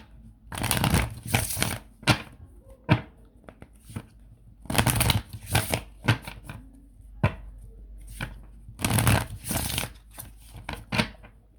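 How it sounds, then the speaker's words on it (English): Bursts of crisp riffling and soft slaps repeat every few seconds, cards being shuffled close by with short pauses between each pass. "moving on to shuffling"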